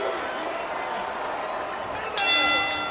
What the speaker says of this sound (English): Referee signals for the bell